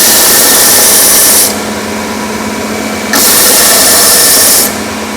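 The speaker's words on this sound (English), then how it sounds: "I'm just going to take it over to the belt sander and just give it a quick hit on the face to smooth it out." Belt sander smoothing the face of a repaired skid steer part in a workshop, a steady loud abrasive whir that rises in two heavier grinding passes as the metal is pressed against the belt.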